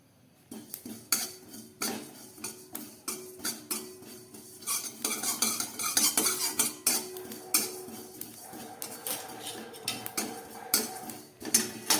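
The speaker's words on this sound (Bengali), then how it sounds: "তার মধ্যে দিয়ে দিচ্ছি একটু গোটা জিরে জিরেটাকে আমি একটু ভেজে নেব" Whole cumin seeds fry in a kadai while a spatula stirs them, producing a busy run of metallic scrapes and clinks against the pan over a light sizzle, close and fairly loud, with no talking.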